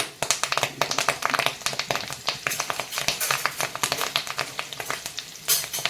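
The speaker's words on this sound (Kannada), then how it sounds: "ಎಣ್ಣೆ ಕೂಡ ಕಾದಿದೆ ಸಾಸಿವೆ ಜೀರಿಗೆ ಅಜ್ವೈನ ಒಟ್ಟಿಗೆ ಸೇರಿಸ್ತೀನಿ" Mustard seeds, cumin, ajwain and curry leaves crackle and spit in hot oil for a gram flour dish, a dense, steady patter of sharp pops close by with no voices.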